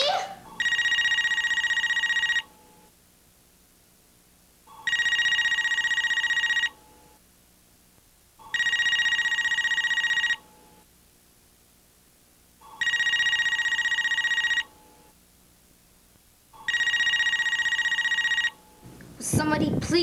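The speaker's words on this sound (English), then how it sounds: "Somebody please answer that phone." A telephone rings in five regular bursts of about two seconds each, separated by short silences, loud and close, with a bit of activity right at the end.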